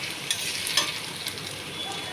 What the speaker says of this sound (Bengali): এর সাথে ডিমটা ঝুড়ি করে ভেজে নিয়ে নেব, একসাথে ভাজা হয়ে যাবে